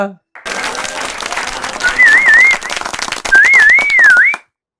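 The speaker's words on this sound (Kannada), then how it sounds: "ಹೊಡಿ ಹೊಡಿ, ಚಪ್ಪಾಳೆ ಹೊಡಿ, ಚಪ್ಪಾಳೆ ಹೊಡಿ, ಚಪ್ಪಾಳೆ ಹೊಡಿ" An indoor group claps for a few seconds, with loud, dense applause swelling and dipping. Sharp whistles and some voices cut through it before it stops abruptly.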